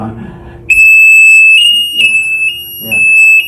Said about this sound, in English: This alarm sounds a little bit different. This is a high-level alarm